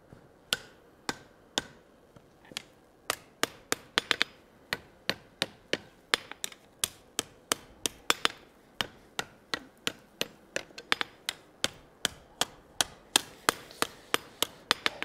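A hammer strikes hot steel on an anvil while a colonial-style trivet is forged, giving a long run of sharp, ringing blows at a steady, quickening rhythm, close and loud.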